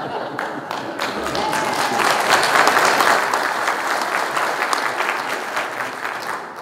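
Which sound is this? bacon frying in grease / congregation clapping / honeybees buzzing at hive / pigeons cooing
congregation clapping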